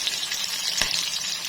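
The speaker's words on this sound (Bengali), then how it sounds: "এই মাছগুলো হলে আমি বাকি মাছগুলো এভাবে করে ভেজে নেব" Fish pieces fry in a pan, a continuous bright sizzle and spatter over a short stretch, with one sharp crackle partway through and no voices.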